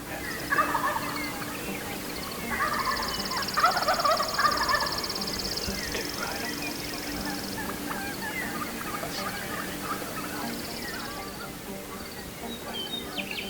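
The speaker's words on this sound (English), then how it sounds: "There are literally hens yelping all in this roost." Wild Merriam's turkey hens call repeatedly from a pine roost, bursts of raspy yelping and clucking at mid distance over a steady outdoor background, with a faint gobble.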